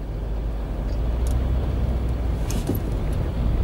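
Car traffic on a Tallinn street: a steady, fairly loud road rumble with engine hum as vehicles pass, plus a few brief higher squeaks or brake sounds partway through.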